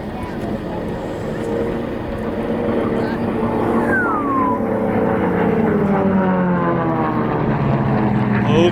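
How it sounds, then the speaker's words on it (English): Sport Class racing airplanes roar past at the Skyfiesta air race, propeller engines droning loudly and shifting in pitch as they pass, with a commentator talking over the noise. "listen to these airplanes as they go by"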